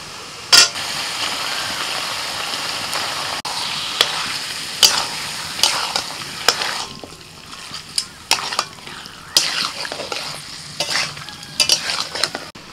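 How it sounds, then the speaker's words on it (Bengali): Chicken sizzles in a pan with onion paste for chicken makhani, a steady hiss of frying broken by repeated scraping stirs of a spatula against the pan, close and fairly loud. "পেঁয়াজ বাটাটার সাথে চিকেনটা কিছুক্ষণ নাড়াচাড়া করে নিয়েছি"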